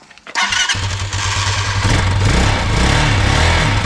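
A 2022 Bashan Brozz 250 Recon dual-sport motorcycle, newly assembled, cranks and catches, then settles into a loud, steady close-up idle with a low throbbing rumble, running alone without talk.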